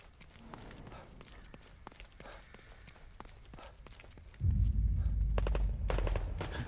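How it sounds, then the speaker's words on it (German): Rapid bursts of gunfire in The Evil Within 2 crackle through the mix, joined by a heavy low rumble in the second half; no one speaks. "Schüsse."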